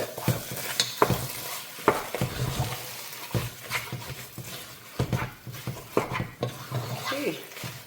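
Egusi soup being stirred in a pot, irregular scraping and knocking strokes under a faint sizzle, close and fairly quiet, no talking.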